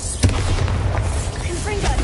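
A Bombarda blasting spell explodes in Hogwarts Legacy on PlayStation 5, a deep booming burst that hits early and then rumbles on under a dense, noisy game soundscape.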